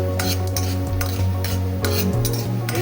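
Ladle stirring toor dal and urad dal as they roast in hot oil for chitranna: a steady, close scraping and clinking against the pan over a continuous soft sizzle, with no talking.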